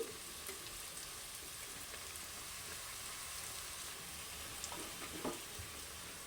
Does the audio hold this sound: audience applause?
no